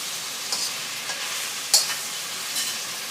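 Oil sizzles steadily in a hot pan of frying pork with sesame while a utensil stirs and scrapes a few times, with occasional clinks against the metal.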